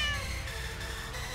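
A cat meows in the video game Techno Kitten Adventure, a drawn-out electronic mew heard up close over a busy, buzzy game soundtrack.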